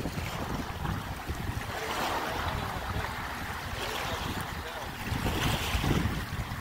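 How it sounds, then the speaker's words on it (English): Wind gusting over open water during trout fishing, a broad steady roar of wind noise mixed with lapping surf that swells louder near the end, with no voices. "Look at the wind."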